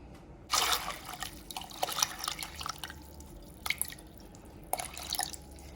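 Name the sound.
water poured onto dried beans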